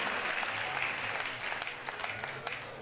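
Listeners at a Hindi comic poetry gathering clap together in a brisk burst of applause, fairly close and dense at first, then thinning into scattered claps.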